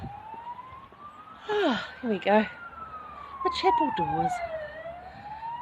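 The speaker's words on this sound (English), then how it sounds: "a bit noisy with sirens and stuff." Emergency vehicle sirens wail outside, a long steady tone sweeping slowly up and down across the whole stretch, with someone talking over it at moderate distance.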